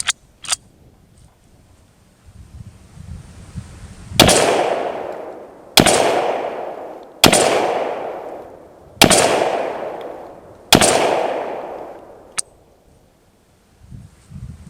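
A U.S. M1 Carbine .30 military surplus rifle fires five rounds, evenly spaced loud sharp cracks each trailing into a long echoing decay, with a few small mechanical clicks before the first shot.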